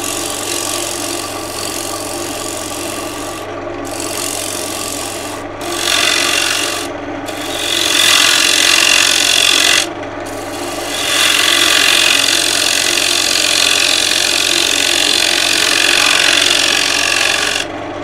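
Wood turning on a lathe as a tool cuts a walnut bowl wall, a steady rough scraping hum with brief pauses where the tool lifts off, close and loud with no talk.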